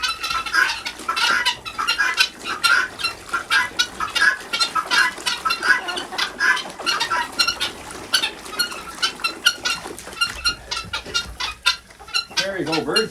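Chickens clucking and squawking almost nonstop in a summer flock, close and busy, with a person's voice faintly mixed in.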